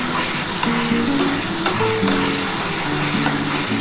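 Small khoira fish curry masala with mustard paste fries and is stirred in a pan, a dense continuous sizzle broken by repeated scraping strokes of a spatula, close and fairly loud.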